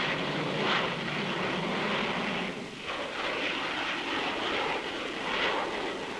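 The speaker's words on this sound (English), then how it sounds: "The Delta's large wing area makes it very maneuverable and gives it a good performance at high altitudes." Delta-wing jet aircraft in flight, a broad, steady roaring whoosh of engine noise that swells and eases slightly, heard alone without talking.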